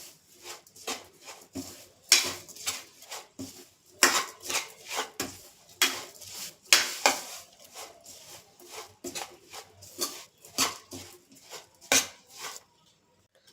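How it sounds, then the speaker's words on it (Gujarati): Garlic and chilli raita being stirred in a bowl, heard as quick, irregular metallic clinks and soft scrapes repeating close by, with no talking. "બરાબર મિક્સ કરી લેશું."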